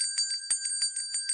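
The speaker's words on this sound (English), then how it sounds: "give me another bell ringer" A bright bell rings in a rapid series of sharp, metallic dings, about eight strikes in under two seconds, loud and alone, played as a sound effect on a sports radio broadcast.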